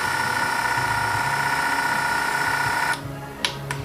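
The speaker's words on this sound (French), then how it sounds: "Je baisse la porte, le petit moteur bouge là." A small electric motor that drives a chicken coop door hums and whirs steadily, close and moderately loud, then stops abruptly, followed by a few light clicks.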